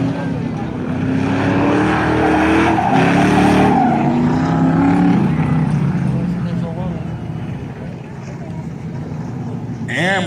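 Eight-cylinder race cars circling Valley Raceway, a loud roaring pack of engines rising and falling as they pass, with a race announcer talking over the noise throughout.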